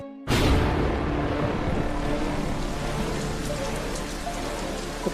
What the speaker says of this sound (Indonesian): hujan lebat turun membanjiri bumi